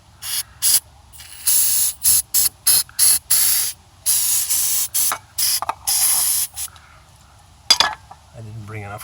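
Repeated short bursts of hissing cleaner spray from an aerosol can during Mercedes EGR valve cleaning, a dozen or so quick sprays in uneven rhythm, close up with small clinks between.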